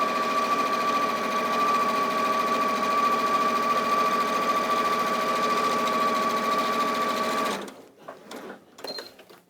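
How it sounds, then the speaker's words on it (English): A sewing machine runs steadily along a seam with a loud, close, continuous motor whir and needle chatter, then stops abruptly, leaving a few faint clicks and handling sounds. "I'm just sewing, allowing the foot to rest against the seam line"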